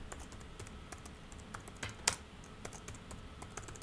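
Typing on a computer keyboard, a quick irregular patter of soft key clicks throughout with one sharper tap midway, quiet and close, with no voices.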